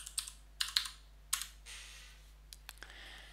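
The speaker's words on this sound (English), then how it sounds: "I'm going to hit enter, and I've got to type my password." Typing a password on a computer keyboard, a few quick clusters of close key clicks with short gaps between them, quiet and with no one talking.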